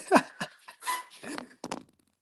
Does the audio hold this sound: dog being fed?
yes